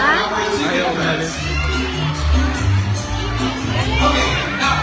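A bird show audience applauds and cheers for performing toucans, a dense crowd noise with children shouting, steady and fairly loud throughout.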